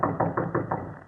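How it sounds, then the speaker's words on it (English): Five firm knocks on a door rap out in an even, quick rhythm, close and alone, a radio drama sound effect. "He will then assume his most authoritative air and knock."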